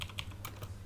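Keys clatter on a computer keyboard in a short burst of several quick, light taps, close and fairly faint, with no talk.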